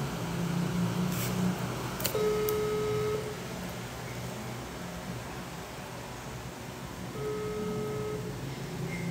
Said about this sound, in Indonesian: Kita telepon kali ya.